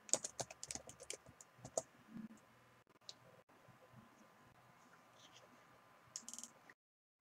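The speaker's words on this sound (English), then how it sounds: "Typing Hillary Rodham." Someone types on a computer keyboard in quick bursts of close, crisp key clicks, pausing into near silence between flurries, with no talking.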